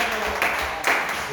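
Congregation applauding during a church service, a dense wash of hand claps swelling in short bursts with crowd noise mixed in.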